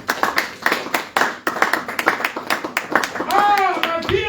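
A congregation claps in a steady rhythmic beat, loud and close, as a church crowd acclaims the Lord; voices rise toward the end with singing or cheering over the claps.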